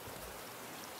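Rain falls in the survival video game Raft as a brief, faint, even patter and hiss with no talking.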